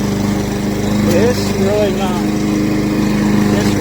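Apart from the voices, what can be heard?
PowerSmart 21-inch gas lawn mower with B&S engine running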